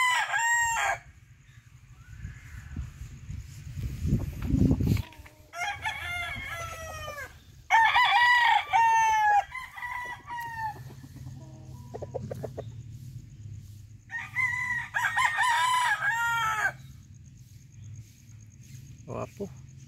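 Gamefowl roosters at a game farm crow repeatedly and loudly up close, with crows overlapping and some clucking in between against a low background rumble.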